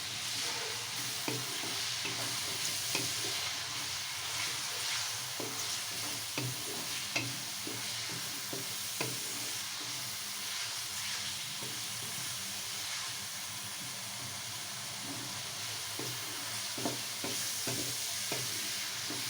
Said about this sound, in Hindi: तो एक कप मैंने घी का कढ़ाई के अंदर डाल दिया है। अब इसके अंदर प्याज डालते हैं।